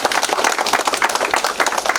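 A classroom of students claps steadily and densely for about two seconds, many hands overlapping into a continuous, fairly loud patter with no talking.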